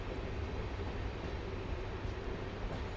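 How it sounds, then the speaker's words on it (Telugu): Steady broadband rumble from inside a MEMU train running after leaving Tanuku railway station, an even continuous roar with no distinct clacks, moderately quiet and uninterrupted. "మన ట్రైన్ అయితే తణుకు రైల్వే స్టేషన్ అయితే స్టార్ట్ అయిపోయింది."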